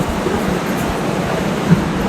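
Train rolling through Delhi Shahdara station, a steady loud rumble of wheels and carriage noise with a faint rhythmic clatter and a small knock near the end, no voices.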